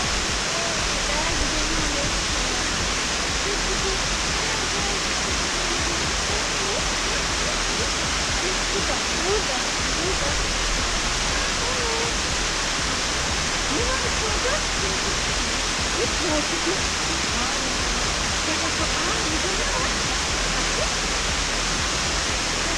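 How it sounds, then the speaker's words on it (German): The Kuzalan waterfall roars as a constant dense rush of falling water, close and loud throughout, with voices faintly audible beneath it. "Wir sind jetzt hier am Brüssalan Wasserfall"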